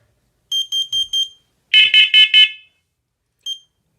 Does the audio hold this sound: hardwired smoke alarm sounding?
yes